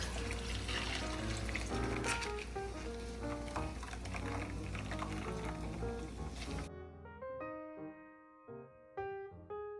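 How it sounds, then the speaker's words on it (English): Almond milk pours and trickles steadily for several seconds as it is strained, then cuts out, leaving soft tonal notes behind, faint and close. "Next, we're going to strain the almonds out of the almond milk."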